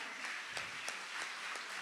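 Soft, distant applause from an awards-ceremony audience for two musicians, a steady hiss of clapping with a few louder individual claps punctuating it.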